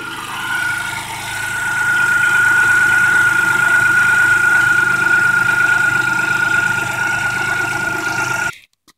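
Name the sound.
1994 Geo Metro 3-cylinder engine idling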